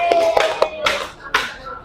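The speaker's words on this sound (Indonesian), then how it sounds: "Beri tepuk tangan ya." Schoolchildren in a fifth-grade maths classroom clap their hands in a few short, uneven bursts of claps, close and fairly loud, with a brief pause before a final burst.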